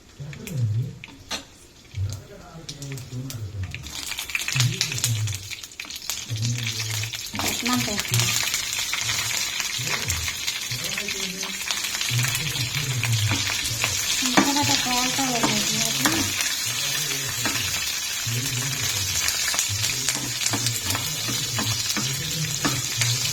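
Green chillies frying and being stirred in a pan of oil, a steady loud sizzle with repeated scraping stir strokes throughout, and a voice speaking faintly underneath.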